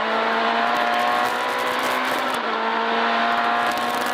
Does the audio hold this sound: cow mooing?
no